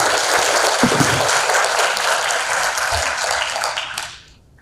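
An audience at the KDD 2025 data science conference applauds to welcome an invited speaker, a dense, steady burst of clapping from a large crowd that fades out toward the end.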